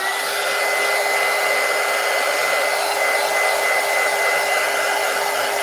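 A hair dryer blows on a steampunk collage box, a loud, even, unbroken whir that holds steady throughout with no talk.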